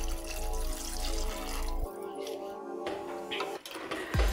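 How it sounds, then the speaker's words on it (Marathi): Water poured from a glass into a pan of spiced masala for a village-style pigeon pea pod vadi curry: a steady, close splashing rush for about two seconds, then a quieter trickle and a soft clink. "आता आपण यामध्ये पाणी टाकून घेऊया।"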